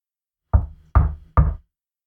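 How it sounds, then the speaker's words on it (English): Three firm, evenly spaced knocks rap on a door, close and loud, each a short solid thud with a brief decay, in otherwise silent surroundings. "raps politely but firmly on the door."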